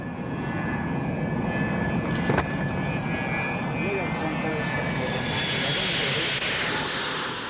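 A jet airliner flies at about 2,000 feet past an airport at night, heard as a steady, loud broadband roar that fills the whole stretch without a break.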